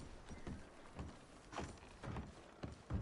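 Video game horses being loaded with packs make faint, muffled hoofbeats, a slow, uneven clip-clop of a few steps at a walking pace against a quiet background, with no talking.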